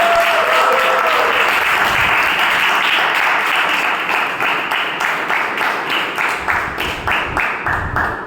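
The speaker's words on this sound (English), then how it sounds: "can we have a big round of applause?" A crowd at a Toastmasters club meeting breaks into loud, sustained applause, many hands clapping together in a dense wash that gradually thins toward more distinct claps.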